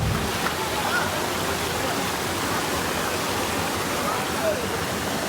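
Water from a mountain source near Dehradun flows down a series of stepped channels, making a steady, close rushing wash that stays even throughout, with a voice talking over it.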